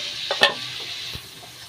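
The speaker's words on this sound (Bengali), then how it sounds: "এটা ভালোভাবে নাড়িয়ে নেব" Vegetables with spices in a pan for daliya khichuri, a soft sizzle broken by a few quick stirring scrapes and knocks of a spoon.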